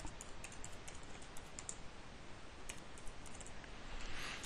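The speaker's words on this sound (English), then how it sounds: "all you need to do is to type your email address in the box" Quiet computer keyboard typing an email address, a loose run of soft, irregular key clicks over faint background hiss.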